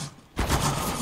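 A Counter-Strike: Global Offensive gun fires in a sudden loud burst of rapid shots that continues to the end of the clip after a brief quiet moment.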